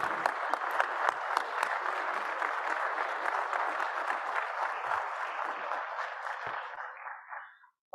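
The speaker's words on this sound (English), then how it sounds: "Big round of applause for Nikki." A symposium audience applauds as a speaker takes the stage, steady broadband clapping of a large crowd that holds for several seconds and then thins out and fades near the end.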